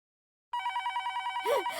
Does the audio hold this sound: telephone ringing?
yes